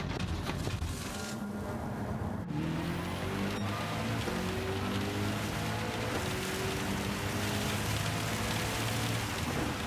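Heavy rain in the Gran Turismo 7 racing game, a steady hiss of downpour and spray over the rising and falling whine of car engines, continuous and fairly dense with no voices.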